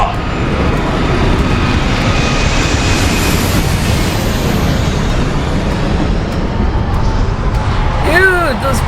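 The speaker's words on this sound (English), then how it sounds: "those planes are so close" Airplanes fly low overhead in a television episode, producing a loud, continuous roaring rumble that swells and passes, with people talking over it near the end.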